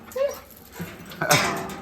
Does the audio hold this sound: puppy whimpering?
yes